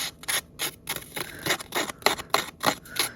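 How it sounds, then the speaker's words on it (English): Scissor blades scrape rhythmically along the edge of a paper sheet in a papercraft project, a run of about a dozen dry, rasping strokes close up with no talking. "you get a pair of scissors and you kind of scrape along the edge of the paper"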